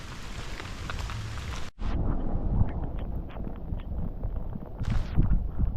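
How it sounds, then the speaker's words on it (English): Heavy rain pours and wind buffets the microphone during Storm Bert on a walk around Denbigh, North Wales, a dense, steady roar with a brief dropout early on. "it's absolutely bucketing it down now. And I think the wind is picking up."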